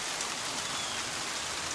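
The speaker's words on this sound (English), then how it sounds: "Really rainy." Continuous rainfall on a rainy day, a uniform wash of raindrops pattering on surfaces, moderately loud and unbroken, with nobody talking.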